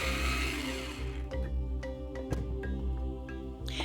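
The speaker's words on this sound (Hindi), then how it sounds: "किसी भी ब्लेंडर में डालकर आप भी इसको ग्राइंड कर सकते हैं" A blender grinds ingredients for seekh kabab, a steady whirring motor that starts loud and settles, with small clattering knocks as pieces spin inside.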